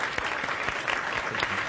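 Studio audience applauding on a television game show, a dense, steady wash of many hands clapping close by with no talking over it.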